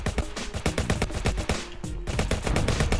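Rapid, steady automatic gunfire in the voxel game Voxel Turf as robbers at a coffee shop are shot down, a loud continuous string of sharp shots with barely a pause.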